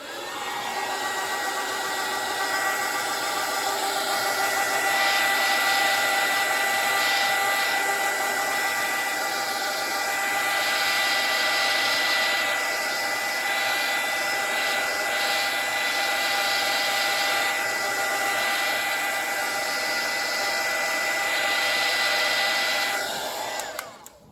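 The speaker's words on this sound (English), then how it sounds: "take my heat gun to this and pop these little bubbles" A heat gun blows steadily to pop bubbles on an art project, a loud, continuous airy whine with an even motor hum that holds for over twenty seconds before shutting off.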